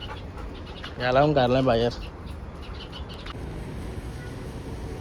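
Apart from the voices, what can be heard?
bird calling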